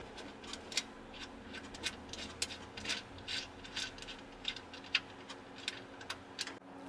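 A ratchet fitted with a 10 mm socket works the coilover nuts on an Infiniti Q50 during a BC Racing coilover install, making quiet, uneven bursts of clicking pawl ticks over a soft background.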